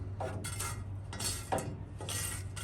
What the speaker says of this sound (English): I'm also going to just stir up the chips